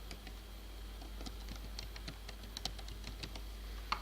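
Someone types on a computer keyboard in irregular bursts of light clicks and taps. The keystrokes sound close and quiet over a low steady hum, with no one speaking.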